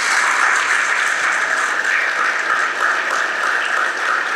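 An audience at a spiritual talk on the Gita claps loudly, a dense sustained wash of applause holding steady throughout without any voices.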